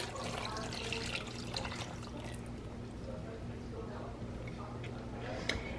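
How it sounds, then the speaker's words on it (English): A 28-ounce can of enchilada sauce is poured into a dish at home, a soft, continuous liquid pour with faint trickling under a low steady hum. "So we're gonna pour that entire can in here."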